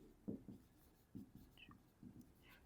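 Pen strokes on paper while working a math exercise by hand, a handful of short, soft scratching bursts in uneven rhythm, close and quiet, with no voice over them.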